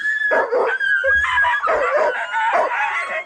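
Sled dogs bark, yip and howl excitedly while being hooked up for a run on a moonlit night, a loud, close chorus of overlapping calls with no talk.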